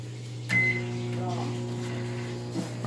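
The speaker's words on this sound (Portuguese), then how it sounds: "Agora vamos fechar o micro-ondas." A microwave oven runs while cooking an omelette, giving a steady low electrical hum with a faint fan whir, opened by a brief clunk and beep as it starts, and a small knock near the end.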